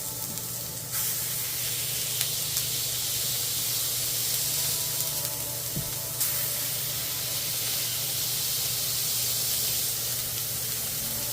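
A smash burger patty sizzles on a hot baking steel at home, a steady, close, loud frying hiss that continues for several seconds with small crackling spits and no talking.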